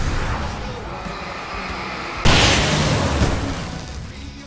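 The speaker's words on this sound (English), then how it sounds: "I can set off more of the fireworks from here and help you out!" Fireworks burst in the Alan Wake video game on a farmland stage, a sudden loud boom cutting through steady game noise and combat, then a broad rumbling wash that slowly fades.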